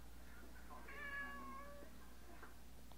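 A cat lets out a single faint meow in the middle of a quiet, hum-filled room, distant and brief against steady low background noise.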